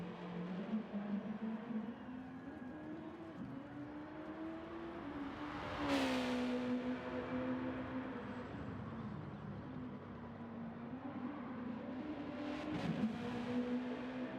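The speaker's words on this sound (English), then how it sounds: "You know by what car you're driving how hard it's revving." A race car engine in the Gran Turismo Sport video game revs over and over. The faint, distant whine climbs and drops through several gear changes, with a sharp shift around the middle.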